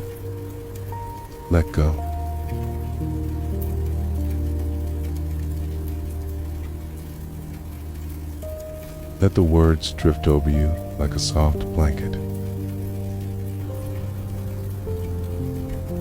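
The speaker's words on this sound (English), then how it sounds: "Only the sound of the rain," Steady rain falls against the windows of a mountain lodge at night, a soft continuous patter that runs the whole time beneath a calm, close narrating voice.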